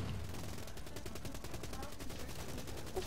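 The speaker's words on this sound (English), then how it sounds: "Ooh, minigun." Rapid minigun fire in Call of Duty Black Ops III, a dense, continuous mechanical rattle of fast-repeating shots held at steady loudness for the whole stretch, with faint voices underneath.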